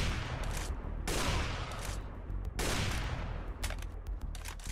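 Rapid gunfire in a shooter video game's zombie mode, two long sustained bursts of dense automatic shots with a brief gap between, loud and close with no talk over it.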